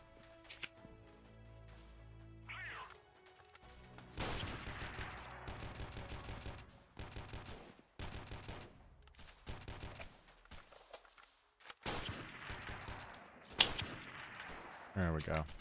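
Gunfire in the guerrilla warfare game Freeman: Guerrilla Warfare during a factory defense, with repeated bursts of shots, some long and some clipped, mixed with other game sounds at a moderate level.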